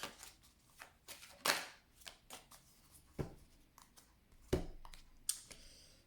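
Tarot cards being cut and shuffled by hand, a series of crisp flicks, slaps and riffles spaced irregularly, close and fairly quiet, without talk.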